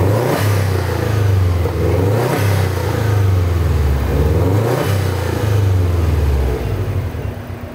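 A 2005 Subaru Impreza WRX with an APEX exhaust is revved repeatedly to about 4000 RPM, three or four loud rising-and-falling pulls from close by, with no voices.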